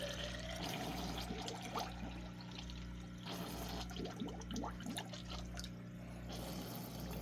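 Water runs steadily into a Rena Filstar aquarium canister filter through a hose, a soft continuous trickle and gurgle under a constant low hum, faint and close.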